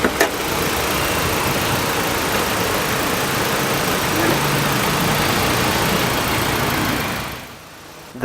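A 2018 Mitsubishi Xpander's 1.5-liter four-cylinder engine idles steadily under the open hood, a loud, even hum for about seven seconds before it abruptly dies away.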